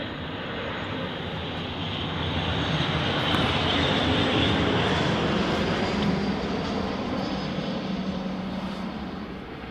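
An Embraer jet landing at Manchester Airport, a broad, steady engine roar that swells slightly mid-way and holds loud and close throughout, with no voices.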